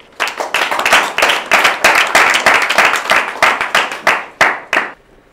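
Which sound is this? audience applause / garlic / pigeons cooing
audience applause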